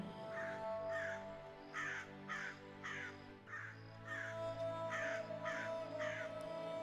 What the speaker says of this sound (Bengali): একটা কাক ডানা ঝাপটে ডেকে উঠল